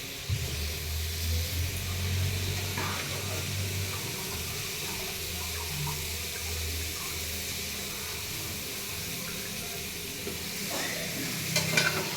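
Rice is stirred into soybean biryani frying in a pan, with a soft continuous sizzle and scraping stir strokes at moderate volume and a few sharper clinks near the end.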